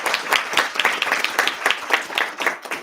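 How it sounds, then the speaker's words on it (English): Audience at a student senate meeting claps for people who came and spoke, a sparse, uneven patter of separate hand claps from a modest group, fairly close and steady throughout. "Let's give another round of applause for everybody who came and spoke."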